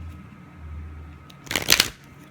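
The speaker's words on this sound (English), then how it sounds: "Let's get these cards shuffled for you." A deck of tarot cards riffles in one short, loud burst of flapping paper close by, after a quieter stretch with only faint handling noise.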